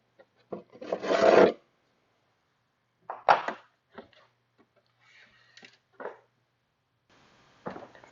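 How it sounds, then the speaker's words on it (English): Light hand sanding with 600 grit sandpaper on the headlight assemblies of a Lamborghini Countach replica, soft raspy rubbing strokes in short, scattered bursts with quiet gaps, close by and faint. "I'm going to go ahead and use the 600 grit sandpaper. Going to go ahead and just lightly go over the surface"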